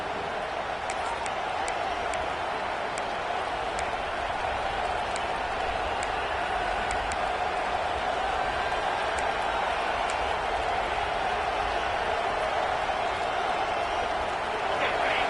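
A packed stadium crowd at an Arizona State football game roars on third down after a timeout, a dense, sustained wall of noise from start to finish with faint scattered whistles and shouts on top.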